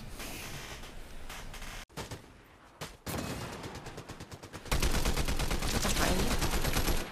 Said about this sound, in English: Was that a Towhook cannon that you just shot?